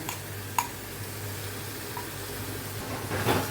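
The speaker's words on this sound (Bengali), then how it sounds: "আর একটু ভাজা ভাজা করে নেব পোস্তটা" Poppy seed paste and ridge gourd fry in a pan while being stirred, giving a steady low sizzle with a couple of sharp utensil taps and a brief louder scrape near the end.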